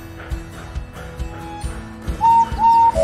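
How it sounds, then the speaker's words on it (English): A steam engine whistle from a Roblox remake of a Thomas and Friends scene sounds in two short, clear toots near the end, after a stretch of rhythmic low chuffing. "from far away an engine whistled"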